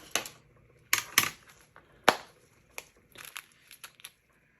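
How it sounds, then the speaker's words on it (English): Pieces of glass dropped and pressed into a resin coaster with 3D flowers, making a few sharp clinking, crunching clicks in separate bursts, close and fairly quiet. "now I'm going to put the glass in."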